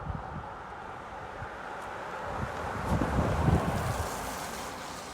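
Steady wind roars across the microphone during a snowstorm with the season's first accumulating snow in North Weymouth, a constant broadband rush that swells louder for a couple of seconds midway before easing slightly.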